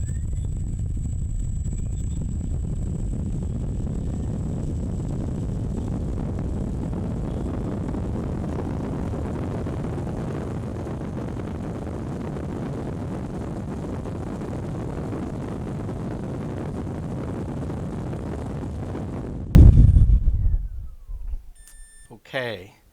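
A Sunnysky X2820 800kv brushless motor runs steadily on a thrust test stand, a sustained loud whine and airflow rush for about twenty seconds before cutting off abruptly, followed by a few clicks and a beep.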